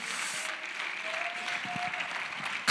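A church congregation claps hands during a sermon, a steady wash of applause filling the room evenly throughout, ending with a sharp louder burst.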